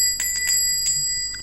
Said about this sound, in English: jump from the sound of the bell cutting through the stale air